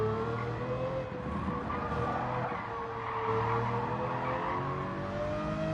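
A Lamborghini race car roars steadily through a Gran Turismo 7 race, its sustained engine drone rising and falling with tire noise and skids, loud and continuous with no talk.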